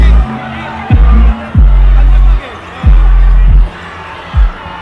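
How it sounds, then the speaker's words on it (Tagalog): Basketball video game arena with a dribbled ball bouncing in loud repeated thumps and a roaring crowd murmuring and cheering in the background, while a commentator's voice is also present. "The crowd explodes!"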